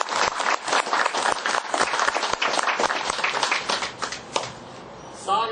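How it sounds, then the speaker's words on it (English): Audience applause at the Outer Banks Senior Games 2015, a dense, steady burst of many hands clapping close by that carries on for about five seconds, then fades to a few scattered claps. "Let's give her a well-deserved round of applause."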